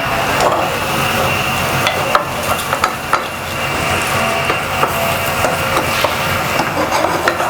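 A spoon stirring onions and salt cooking in a pot for Liboke de Mosombo, with soft scraping and irregular light knocks over a steady sizzle.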